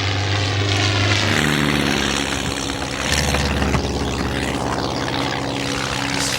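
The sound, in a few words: propeller airplane flying low overhead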